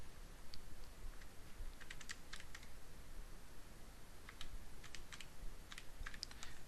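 Numbers tapped into a calculator as quiet, quick keypresses in short clusters with pauses between, faint and close against a steady low background hiss.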